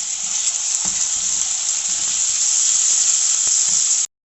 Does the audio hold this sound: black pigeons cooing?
no